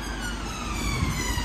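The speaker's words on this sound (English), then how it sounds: "That's an ambulance car." An ambulance siren wails continuously at Chorley amid steady traffic rumble. The siren is a moderately distant rising and falling tone, with no voices.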